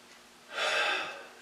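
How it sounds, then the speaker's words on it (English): One audible inhaled breath drawn through the nose during a self-treatment demonstration, close and breathy, rising and fading over about a second with no talk. "I take a breath in"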